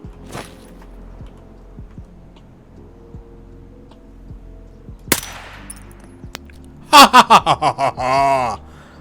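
A single sharp long-range rifle shot rings out in Escape from Tarkov, one loud crack standing out over quiet ambient game sound, followed by a brief burst of rapid clipped noises.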